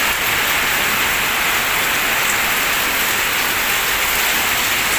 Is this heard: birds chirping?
no